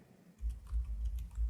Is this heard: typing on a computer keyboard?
yes